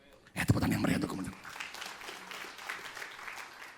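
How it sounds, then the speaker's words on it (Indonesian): A church congregation bursts into loud applause that swells quickly and then eases into a steadier, thinner clapping, with voices heard over it. "tepuk tangan yang meriah untuk teman-teman"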